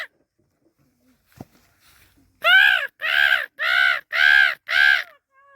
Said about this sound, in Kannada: ಇನ್ನೊಂದು ಚಿಕ್ಕ ಕಾಗೆ ನೋಡಿ.